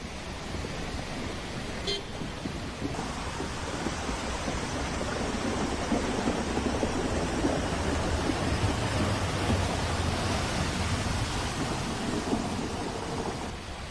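Heavy monsoon rain pours steadily in Dakshina Kannada near a waterlogged road at Kalladka, Bantwal, with rumbling thunder underneath and faint passing traffic and horns mixed into the loud, continuous downpour.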